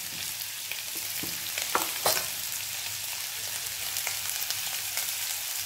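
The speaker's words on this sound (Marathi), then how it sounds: "ज्या उकडून घेतलेल्या ज्या सोयाबीन वड्या आहेत त्या आपल्याला परतून घ्यायच्या आहेत" Boiled soybean chunks fry in hot oil with a little turmeric, giving a soft, constant sizzle broken by a few light stirring scrapes and taps early on.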